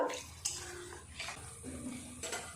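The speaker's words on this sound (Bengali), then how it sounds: "দিয়ে দেব অল্প জল, মশলার জার ধোয়া জলটাই দিয়ে দিলাম" Water pouring from a rinsed spice jar into a pan of chicken curry, a few soft splashing bursts at close range, fairly quiet with kitchen clatter and no talk.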